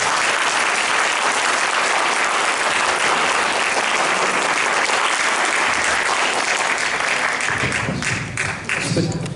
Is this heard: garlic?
no